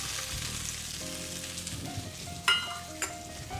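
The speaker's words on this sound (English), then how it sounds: "we'll let this masala fry until the raw smell disappears" Onion masala frying in a pan for a South Indian kuska biryani, a steady soft sizzle with occasional stirring clatter and a couple of sharper utensil clinks near the end.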